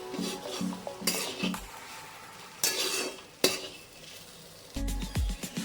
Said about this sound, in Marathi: मसाले घातल्याच्या नंतर आपण आता याला छान असं मिक्स करून घेऊया